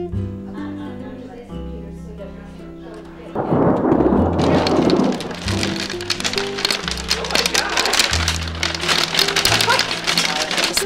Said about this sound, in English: Started hailing all of a sudden, but I'm a big fan of thunder and lightning too